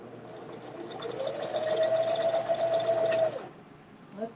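A sewing machine stitching a hanging fabric basket whirs up to a steady, loud motor hum with a rapid needle chatter, then stops abruptly, followed by a soft handling sound.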